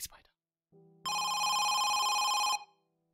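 A telephone ringing in the horror game Home Sweet Home, a steady electronic trill lasting about one and a half seconds, preceded by a brief low tone and a short bit of talk.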